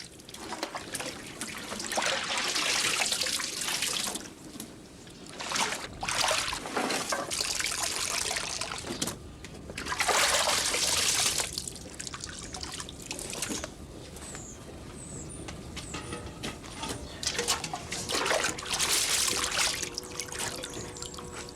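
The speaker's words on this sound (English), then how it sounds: "The tarps that served to cover the fruit are now removed and hung over a pole to drip off." Water trickles and drips steadily off tarps hung over a pole after covering fruit at an old wooden press, a continuous splashing patter that swells and eases, heard up close with no talking.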